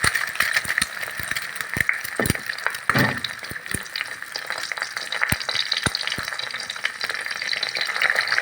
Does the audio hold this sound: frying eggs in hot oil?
yes